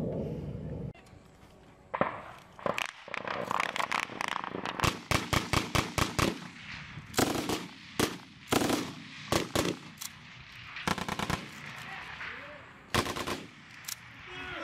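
Gunfire cracks out during a US Marine firefight in Sangin, Afghanistan, with sharp single shots and rapid rifle bursts at varying distances, some loud and close, others fainter.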